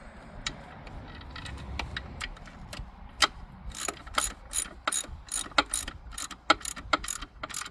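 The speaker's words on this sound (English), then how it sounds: "Okay, I put the other bolts back in, and hopefully it's good." Ratchet wrench clicking as bolts are threaded back into a Mercruiser Alpha One Gen II lower unit, quick rhythmic clicking bursts that grow louder and denser toward the end, close up with no talking.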